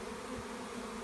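Bees from a garden swarm drone in a steady, continuous low buzz that fills the whole moment, close by and fairly loud with no voices over it.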